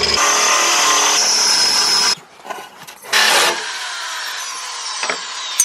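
A steel bracket on a VW T4 Transporter van is sanded down with a power tool: a loud, rough, whirring grind that drops off briefly, then starts again and runs on with small scraping bursts.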